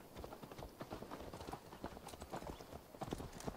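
Horse hooves clip-clop quickly and steadily in Assassin's Creed Valhalla, a dense run of soft galloping footfalls with faint rattling gear, low in level throughout.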